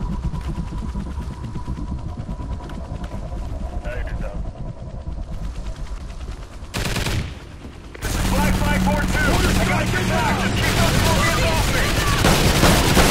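Rapid sustained Death Machine gunfire from Call of Duty: Ghosts roars as a dense, continuous barrage that drops briefly then resumes louder amid game explosions and effects, with players talking over the action.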